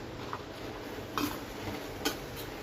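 Long-cut potato slices dropped into a pan of gram-flour mixture and stirred, giving a few faint scraping knocks against the pan over a soft background hiss.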